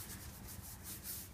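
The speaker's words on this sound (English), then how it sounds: "we are now applying the one coat of the grey" A lime wash grey coat rubbed by hand onto a freshly sanded oak floor gives a steady, close, soft abrasive scrubbing with no pauses, continuous and fairly even throughout.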